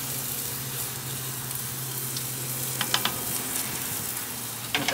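Flat iron steak fries in a pan with rosemary, giving a steady close sizzle with a low hum beneath. Brief sharper pops and spits break through now and then, with no one speaking.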